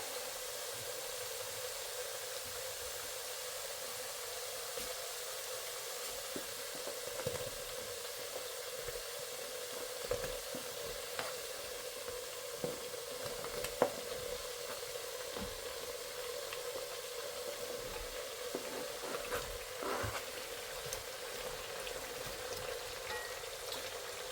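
Vegetables and potatoes fry in a cauldron-style pot for a meatless borscht, giving a steady, dense sizzle with scattered small pops and crackles throughout.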